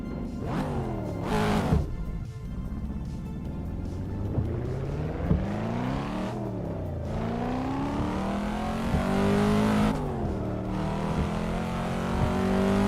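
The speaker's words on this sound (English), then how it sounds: "And this is the car we're driving. The Cadillac GT5V." Cadillac GT5V race car engine in a rainy racing sim game, revving loudly and continuously with rising and falling pitch sweeps as it shifts through gears, steady and close throughout.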